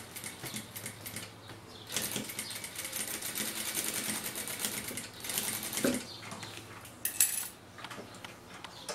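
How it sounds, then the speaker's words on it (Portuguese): A sewing machine stitches two fabric parts of a small teddy-bear coin purse together: close, rapid mechanical chatter in several bursts with short pauses between them. "Eu vou só fazer uma costura aqui, ó. Pra segurar essas duas partes"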